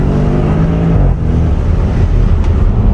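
Audi RS6 with 605 hp accelerating hard, a loud, deep engine roar that rises in pitch then shifts gear, heard close from inside or beside the car.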